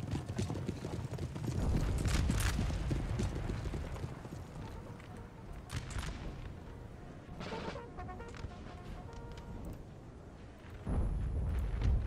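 Cavalry horses gallop across the battlefield in Napoleon: Total War, a dense, steady drumming of many hooves with heavy low rumble and scattered clatter, fading briefly before surging again near the end.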